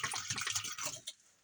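Vinegar is poured into a dishwasher in a short splashing, trickling stream that stops abruptly, followed by a quiet pause and a brief clunk.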